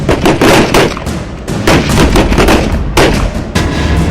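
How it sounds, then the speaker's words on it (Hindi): Rapid bursts of gunfire rattle loudly and continuously, overlapping shots in quick succession during an army operation against militants in Kashmir, with no talk. "गोलियों की तड़तड़ाहट"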